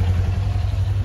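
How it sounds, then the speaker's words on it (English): A Kawasaki Ninja 400 motorcycle idles to warm up before its first oil change, a close, low, steady engine throb with a fast, even pulsing rhythm and no talk. "first thing you're gonna do for oil change is warm up the bike"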